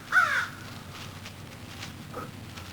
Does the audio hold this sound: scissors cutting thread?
no